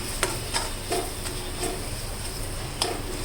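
Potato gravy sizzles steadily in a pan while a spoon scrapes and taps against the metal every half second or so, a close, moderately loud stirring rhythm with no voices.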